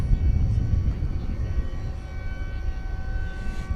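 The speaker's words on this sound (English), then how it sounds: "Piedmont is ready to take off. That's flight 577. It is going to Denver. It's an Airbus A321." Piedmont Airbus A321 airliner at DFW Airport at night, a deep steady jet engine roar with a faint high whine on top, sustained and moderately distant, no talk.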